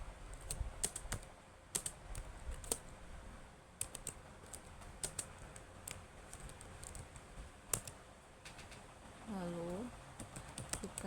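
Python code is typed on a computer keyboard in steady bursts of close, crisp key clicks with occasional pauses, while a voice talks faintly in the background.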